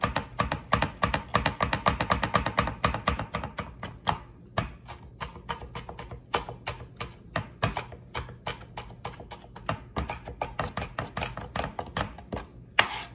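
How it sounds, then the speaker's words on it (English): A knife chops green onion on a cutting board with fast, rhythmic, close knocks. The bursts of evenly spaced strokes pause briefly and start again, and nobody speaks. "I'm just gonna give that a chop"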